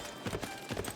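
Horses in Civilization 6 give off a quick run of hollow hoof clip-clops, a few close, even beats over a faint background.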